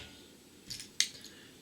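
Two quick, crisp snips of scissors trimming the edge of a sand eel feather fishing lure close by in a quiet room, the second sharper and louder than the first.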